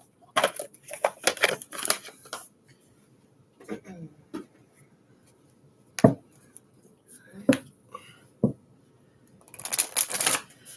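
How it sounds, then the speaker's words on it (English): Crystal reading cards shuffled and laid out on a table, with quick papery riffles and flicks at the start and end and a few sharp taps as cards are set down in between. "I'm going to pull the crystal reading cards out and layer this."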